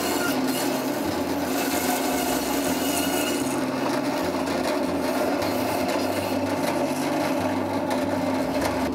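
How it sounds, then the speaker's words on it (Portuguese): Butcher's band saw cutting through a beef rib section to separate the ribs from the brisket, giving a continuous harsh rasping whine with a steady low hum, loud and close, with no talking. "agora vamos para a serra, para separar a costela janela do peito"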